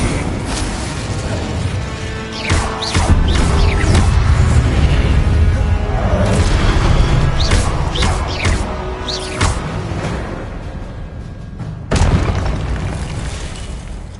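Incendio fire spell in a Harry Potter style video game, repeated booming blasts and crackling bursts at close range over a rumbling background, with a few sharp hits and a loud burst near the end.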